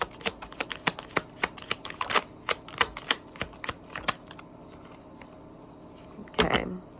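Cards from a tarot deck are shuffled and one is drawn, making a rapid, steady run of crisp riffling clicks up close, then a short rustle of cards being handled.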